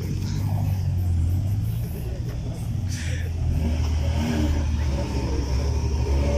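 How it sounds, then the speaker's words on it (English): A car revs hard and rumbles through a burnout at a time attack race event at Tatu City, Kenya, its engine loud and roaring while a crowd cheers and shouts nearby. "Do a burnout!"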